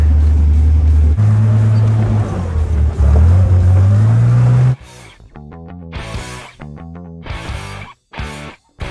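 A 1944 Willys Jeep GPW engine drones loudly and close on a dirt trail, its pitch rising with revs before it drops into quieter, uneven bursts of engine labour and gear changes.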